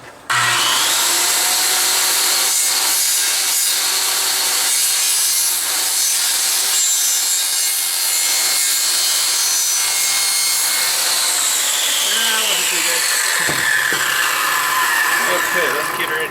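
Wood frame piece on a leaf collector trailer being trimmed with a power tool, a loud, steady grinding-saw whine that runs unbroken and close for the whole stretch, shifting slightly in pitch near the end.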